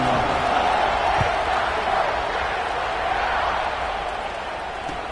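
A college football stadium crowd at Arizona State vs Ohio State roars steadily before a kickoff, a dense sustained wash of distant cheering that slowly eases in level.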